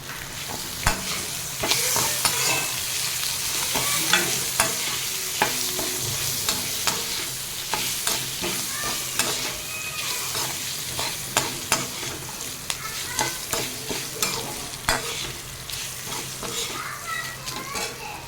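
Urad dal chutney with curry leaves, tamarind and coconut frying in a pan, with a continuous sizzle and repeated close scraping and clacking of a spatula being stirred, while a voice talks intermittently and children can be heard faintly.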